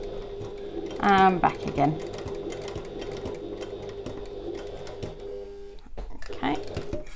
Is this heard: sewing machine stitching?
yes